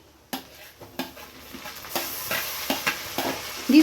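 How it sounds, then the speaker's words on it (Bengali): Chopped tomatoes tipped into onions frying until lightly reddened in a pan, a burst of sizzling with repeated spoon scrapes and pan knocks at an uneven rhythm, growing louder toward the end. "পেঁয়াজগুলো হালকা লাল হয়ে গেছে এবার দিয়ে দিচ্ছি কুচিয়ে রাখা টমেটো"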